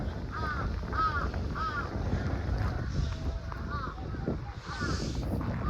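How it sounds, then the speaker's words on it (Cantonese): Crows kept in a cage at Noboribetsu Jigokudani on a cold winter day give a series of harsh, repeated caws over steady wind and outdoor ambience, with faint murmuring in the background. "呢個有個籠啊，裝烏鴉㗎。"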